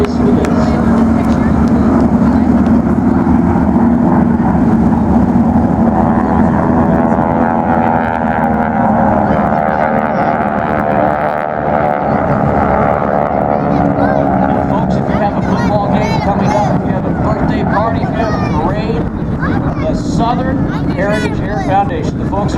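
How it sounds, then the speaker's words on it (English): An airshow aircraft with a Pratt & Whitney engine makes a pass, its loud propeller drone swelling and shifting in pitch as it goes by, with a crowd and a voice heard over it. "Shut up so you can hear the music coming out of that Pratt & Whitney engine."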